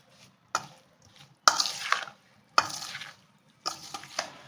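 Spiced amla (Indian gooseberry) pickle being mixed gives a few wet, sticky squelches and scrapes, four distinct close strokes separated by short quiet gaps.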